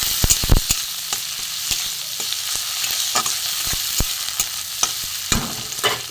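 Sliced onion, garlic and tomato sizzle steadily in a pan while a spoon stirs, knocking and scraping against the metal at irregular intervals.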